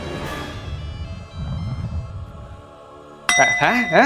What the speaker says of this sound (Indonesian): Terus momen HP satelit bunyi ada dering jadul dalam perut Spinosaurus.